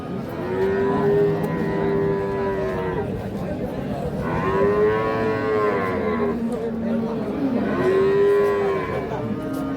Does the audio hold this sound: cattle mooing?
yes